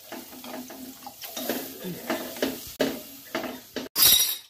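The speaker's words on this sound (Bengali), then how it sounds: "আমি আগের থেকে ফুটিয়ে রেখেছিলাম, জলটা দিয়ে দিলাম।" Pre-boiled water poured into a pan of fish curry (chital fish jhol), with clinks of a vessel and a splashy pour, close and moderately loud.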